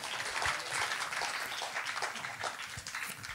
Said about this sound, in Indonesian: Itu tepuk tangan bukan untuk saya